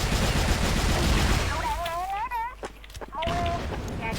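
Rapid bursts of automatic gunfire and explosions in a Vietnamese-played team shooter game, loud and dense at first, then thinning into scattered shots under excited in-game speech and player chatter.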